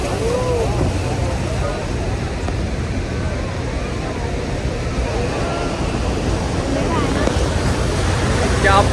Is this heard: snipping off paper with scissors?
no